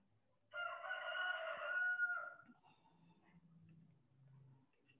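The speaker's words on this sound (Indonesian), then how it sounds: "Ada suara ayam" A rooster crows loudly for about two seconds during an online presentation, then gives way to a quieter low rumble in the background with no talking.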